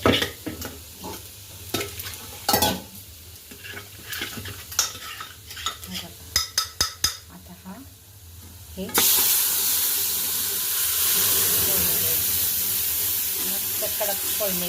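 Cumin, mustard seeds and garlic hit hot oil for a tempering, giving scattered crackles and pops with clinks of a utensil, then a loud, steady sizzle that rises and holds close to the pan.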